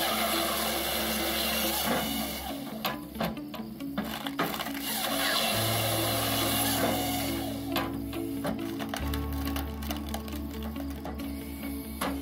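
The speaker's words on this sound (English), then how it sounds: "the Hahn HFP160 firewood processing machine is capable of processing logs up to 12 inches in diameter" A Hahn HFP160 firewood processing machine works through logs up to 12 inches in diameter, giving a steady, loud mechanical drone with shifting low hums and repeated sharp knocks and clatters throughout, with no talk.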